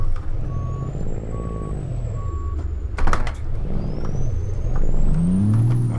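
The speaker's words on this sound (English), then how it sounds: "Let's put it in reverse high." Steady reversing beeps ring out in a regular on-off pattern from a Kenworth K108 truck in American Truck Simulator, over a loud low diesel engine rumble, with a short clank and a rising engine note toward the end.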